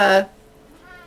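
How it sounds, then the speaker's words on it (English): A house cat lets out one loud, close meow that stops short, followed by quiet room tone. "And that was my cat."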